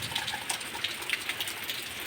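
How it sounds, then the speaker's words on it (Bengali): Rain falls steadily on the fourth straight day of downpour, a soft continuous patter and hiss with scattered drops ticking nearby. "চার দিন ধরে বৃষ্টি হয়ে যাচ্ছে হতেই চলেছে বৃষ্টি রাত দিন একদম বৃষ্টি হচ্ছে দেখো"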